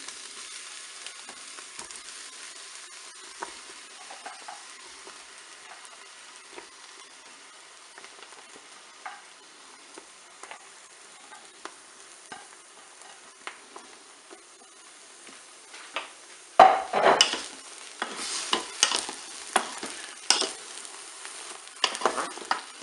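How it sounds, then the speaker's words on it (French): Aubergine rounds dropped onto browning onions in a hot Cookeo multicooker, a soft steady sizzle with light ticking that bursts louder and crackly near the end as the slices hit the pan. "Je vais ajouter maintenant mes rondelles d'aubergine"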